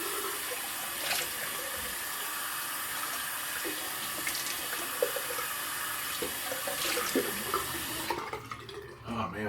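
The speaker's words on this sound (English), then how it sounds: "Cold water." Cold water runs from a bathroom tap during a wet shave, a steady splashing flow into a sink that carries on for several seconds before it is shut off near the end.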